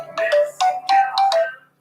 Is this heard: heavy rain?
no